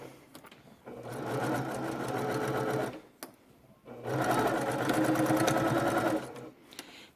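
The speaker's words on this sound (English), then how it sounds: "I'm going to back stitch over my elastic" A sewing machine back stitches over elastic on a fabric mask, running in two steady whirring bursts of about two seconds each, separated by a brief pause, close and clear.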